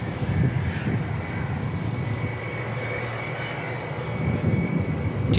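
A Boeing 747-400 freighter departing Christchurch Airport, a continuous broad jet roar with a thin high whine, steady and fairly distant, touched by wind buffeting on the microphone.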